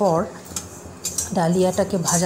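Broken wheat (dalia) is fried and stirred in a kadai over a lowered flame, with a few sharp metal clanks and scrapes of the utensil against the pan, framed by brief tonal vocal sounds.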